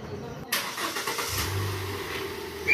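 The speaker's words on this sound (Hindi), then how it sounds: "तो चलिए अब गाड़ी को पहले बाहर निकाल लेते हैं, उसके बाद स्टार्ट करते हैं आगे की जर्नी।" A car pulls slowly out of a cramped parking area, a low engine hum and rumble rising under faint background noise, with a sharp clunk at the start.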